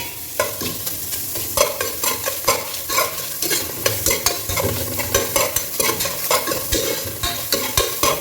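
Onions frying in a pan for Ambur mutton biryani, a steady sizzle with repeated scraping stir strokes in a loose rhythm, close and continuous.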